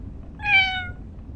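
In the 1954 Alcatraz video game, a stray cat gives a single clear, drawn-out meow over a faint low background hum.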